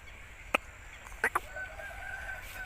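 Aseel rooster, a long-faced fighting-breed cock, gives a few short sharp calls or clucks, one then a close pair, moderately near against a quiet background hum.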